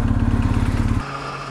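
A BMW R1250 GS Adventure motorcycle engine rumbles loud and close at a steady pulsing idle or cruise, then drops abruptly to a quieter, smoother tone after about a second.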